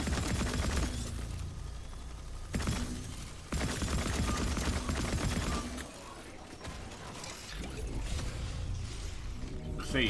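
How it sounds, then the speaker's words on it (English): Enemies firing small lasers in the sci-fi shooter Atomic Heart, dense crackling bursts of zapping fire mixed with clattering mechanical noise, loud and close, broken by short pauses. "These guys shoot little lasers."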